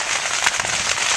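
Savanna fire burns hot and close with a dense, continuous crackle and hiss over a brief moment.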